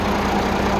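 A brief stretch of a Toyota Hilux Rocky truck's diesel-like 270-horsepower engine idling nearby, a steady rumbling drone with slight vibration and no talking.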